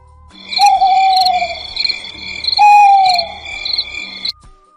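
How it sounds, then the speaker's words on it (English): An owl hoots twice in a clear, loud call, each a drawn-out falling hoot about two seconds apart, over a faint background with no talking. "owl,"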